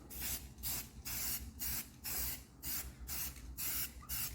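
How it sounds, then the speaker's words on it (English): A spray paint can hisses onto a car in eight short, evenly spaced bursts, each about a third of a second with brief pauses between, close and fairly quiet, with no talking. "This whole car was done with spray paint."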